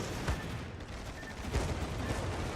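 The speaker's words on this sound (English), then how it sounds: "Something else shooting at me." Ship guns fire in World of Warships, heard as a pair of muffled booms over continuous dense background rumble, fairly distant-sounding rather than sharp.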